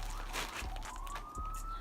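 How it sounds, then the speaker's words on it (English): A siren wails in the distance, its tone slowly rising, heard faintly beneath steady low background noise. "Hear the sirens in the background."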